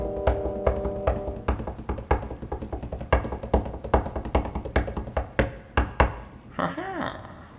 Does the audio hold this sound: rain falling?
no